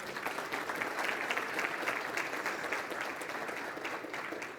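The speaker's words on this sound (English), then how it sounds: "that deserves a round of applause." Dense, steady applause fills a civic audience at the Livonia State of the City address, honoring the fire department. Sustained and fairly even throughout, with no voices standing out.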